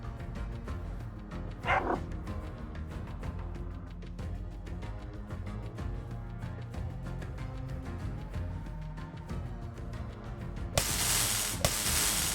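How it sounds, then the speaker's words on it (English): Dogs bark and yip in the video game Underrail, a short burst of barking early on, heard faintly over steady game music with some sharp noise near the end. "Whole bunch of dogs, though."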